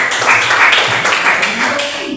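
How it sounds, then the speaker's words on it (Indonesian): A classroom of students bursts into dense, sustained clapping, loud and close, a continuous wash of many hands for a couple of seconds. "Luar biasa, tepuk tangan dulu sekali lagi."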